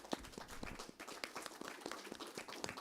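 Faint, steady applause from an audience at a weekly Sunday satsang at a gurukula, with dense overlapping hand claps continuing throughout and no voices.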